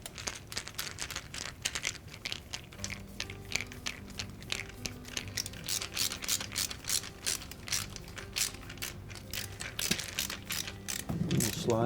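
A pump-to-wash-arm part on a General Electric dishwasher being tightened onto its pipe, heard as close, rapid ratcheting clicks and crinkly plastic rubbing that run steadily throughout, with a low background hum.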